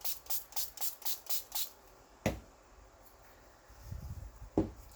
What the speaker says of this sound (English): so I'm going to spray this a little wetter